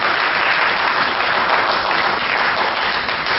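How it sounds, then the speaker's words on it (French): Guests at a wedding ceremony applaud steadily, a dense and loud wash of clapping from a whole crowd that holds its level throughout with no pauses. "Merci beaucoup, applaudissez pour lui."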